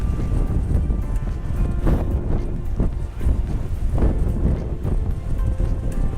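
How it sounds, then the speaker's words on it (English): Strong gusts buffet the microphone at an outdoor long-range shooting range, a loud rumbling roar that swells and dips in waves with no talking. "There's a lot of wind."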